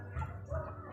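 A dog gives two short, fairly close woofing barks in quick succession, with no talk over them.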